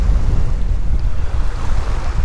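Wind buffets the shore at a fishing spot, a steady low roar and rumble against the microphone with no pauses and no voices.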